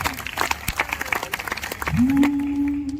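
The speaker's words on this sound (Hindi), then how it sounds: "एक बार अच्छे से ताली बजाओ, आगे से लेकर पीछे तक।" Crowd applause at a martyrs' honour ceremony and Hindi poets' gathering, loud dense clapping that continues under a rising sustained tone in the second half.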